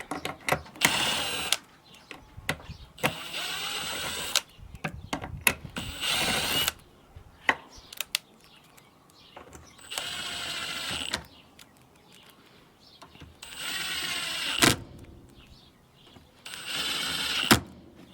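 Power drill driving screws into unpainted, untreated wooden parts of a horizontal beehive, heard as repeated short bursts of whirring motor, each lasting one to two seconds, separated by quiet pauses and small handling clicks, close and loud, with no talking.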